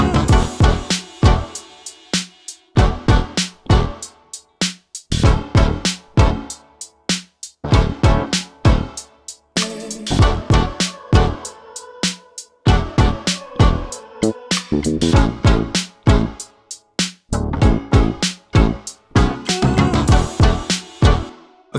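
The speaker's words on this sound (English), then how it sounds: "I want to give you guys a good real world example of how I actually use this in one of my beats" A producer's hip-hop beat built on spicy seventh chords, punchy drums hitting in a steady rhythmic pattern over lush chord stabs, loud and full, with no talking.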